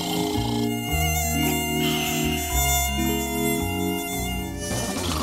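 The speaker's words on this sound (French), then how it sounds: "Est-ce que c'est un moustique?" Mosquito buzzing, a thin whine heard against a tonal musical backing that plays throughout at moderate level, with no talk.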